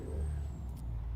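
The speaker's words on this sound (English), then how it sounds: "Like putting in the air into the brakes, right?" Air brakes filling on a truck in American Truck Simulator: a short, steady hiss of pressurized air over a low idling diesel rumble, close and continuous with no talking.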